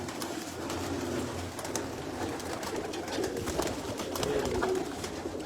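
Outdoor ambience with racing pigeons cooing softly at a distance over steady background noise, occasional faint clicks and rustles.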